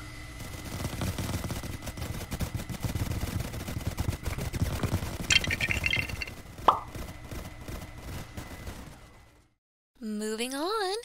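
Gunfire from an execution at a shooting range comes as a run of rapid, rhythmic shots over a busy background, with one sharp louder crack. It drops to a brief silence before a tonal sound starts.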